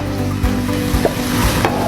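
Butter cooks in a pan over low heat for corned beef mac and cheese. A steady, close sizzle runs throughout, broken by occasional soft stirring scrapes.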